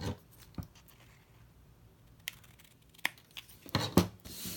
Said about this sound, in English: I just take my scissors and cut it off there